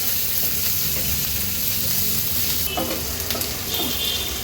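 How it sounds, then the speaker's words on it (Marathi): Spices sauté in a little oil in a pan for potato bhaji, giving a steady, close sizzle and crackle with occasional stirring scrapes throughout. "तेलावर ह्या सर्व वस्तू आपण थोड्या परतून घ्यायच्या आहेत"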